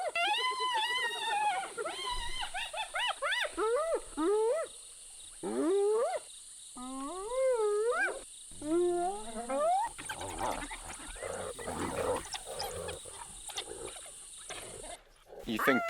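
Hyenas raiding an African wild dog den, with rising, whooping whines and yelps in quick bursts, then a rougher stretch of scuffling chatter and growling, fairly close.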